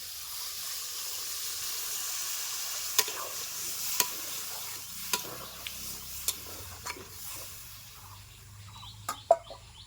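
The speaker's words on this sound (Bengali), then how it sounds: "ইঁচড় আর আলুগুলিকে আমি ভালো করে কষিয়ে নিয়েছি এবার আমি দিয়ে দিব জল" Jackfruit and potatoes frying in a pan give a steady, moderate sizzle with a few sharp stirring clicks and knocks scattered over it, close by, with no talk.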